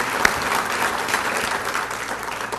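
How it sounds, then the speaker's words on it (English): Steady audience applause at a chamber of commerce patriots luncheon honoring veterans, a dense wash of clapping from a crowd, with a sharp single clap standing out near the beginning. "Please give him a big round of applause."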